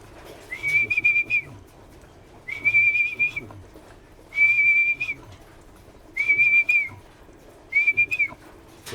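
A person whistles to call pigeons at a loft during a morning routine, giving five separate short whistled bursts at a steady pitch with pauses between them, close and clear over a quiet background.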